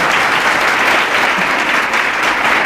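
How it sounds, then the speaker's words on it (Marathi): Audience at a Marathi motivational talk applauding loudly and steadily, a dense wash of clapping that holds at full volume throughout with no gaps or talk. "तेव्हा तरी जोराने टाळ्या वाजल्या पाहिजेत असं मला वाटलं होतं"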